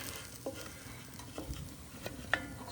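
Bacon grease sizzling in a pan over a rocket stove, a soft steady crackle with a few sharper pops and faint scrapes, fairly quiet with no voices.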